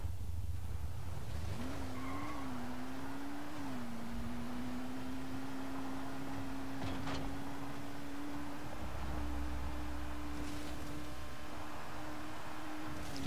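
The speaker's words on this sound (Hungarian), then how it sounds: "Azért így harap az autó" A car in the Dying Light: The Following video game, on Nightmare difficulty, drives hard through a zombie-filled area, giving a steady engine drone with a long sustained tire squeal. Faint thuds and rattles come through underneath, with no talk.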